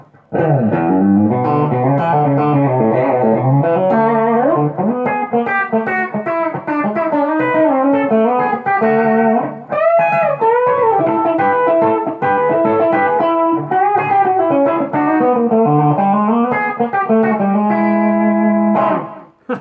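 A distorted electric guitar plays a fast, continuous solo line with bends and sustained notes, loud and close, with no other instruments.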